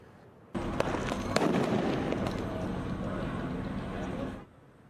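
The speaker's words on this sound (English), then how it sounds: "some setting off fireworks and starting fires" Fireworks set off by protesters during street clashes with police in downtown Los Angeles crackle and pop in dense bursts for about four seconds, with sharp reports standing out over a noisy crowd.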